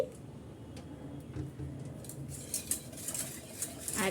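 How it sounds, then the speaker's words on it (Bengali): A spoon stirs milk in a pot on the stove for a sweet dessert, giving soft, faint scraping and light metallic clinks against the pot, with a few brighter taps toward the end and no voices. "আরও এক কাপ দুধ দিয়ে দিলাম ভালো করে নেড়ে চেড়ে মিক্স করে নিচ্ছি"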